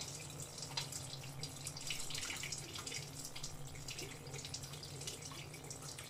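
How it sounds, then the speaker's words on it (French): Tap water running steadily into a sink while hands are rinsed, a faint continuous splashing close by with no talking. "Donc après, je me rince les mains"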